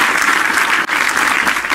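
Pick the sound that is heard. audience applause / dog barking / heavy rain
audience applause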